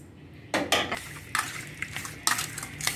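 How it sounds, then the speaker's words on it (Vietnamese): Pork ribs being mixed with garlic, MSG, seasoning powder and sugar in a bowl for braising with eggs, giving scattered clinks and scrapes of utensil against dish, moderately close, with no talking. "Đây mình ướp sườn nha cô chú chị."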